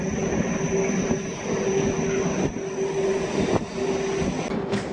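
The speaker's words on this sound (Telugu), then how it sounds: "ఫలక్నుమా స్టేషన్కి మన ట్రైన్ చేరుకుంది" A MEMU train arriving at Falaknuma station gives a steady rumbling hum with a sustained tonal drone and a few brief thumps and clanks, with no talk.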